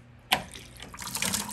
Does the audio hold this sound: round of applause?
no